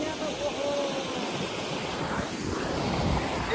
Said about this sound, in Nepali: यस्तो बवाल खोला रहेछ नि यहाँ त